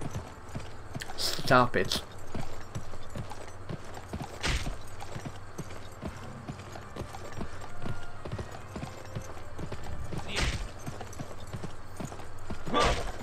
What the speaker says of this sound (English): Warning, you're riding your horse too hard